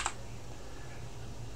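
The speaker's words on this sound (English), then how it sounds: "I'm going to go ahead and click delete on my keyboard." A single delete key press on a computer keyboard, one short sharp click at the start followed by quiet room hum.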